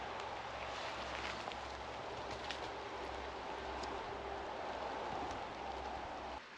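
Wind and rain sweep over a campsite at Betley Park near Shrewsbury, a faint steady hiss over a low rumble, unbroken and without voices.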